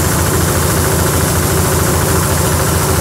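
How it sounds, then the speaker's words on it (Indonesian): A Mak Tani MT212 rice milling machine driven by a Kubota RD85 engine, tested in Mirit, Kebumen, runs steadily and loudly with a rapid knocking diesel thump and a broad mechanical roar throughout, with no talk. "uji coba mesin giling padi Mak Tani MT212 RD85 Kubota"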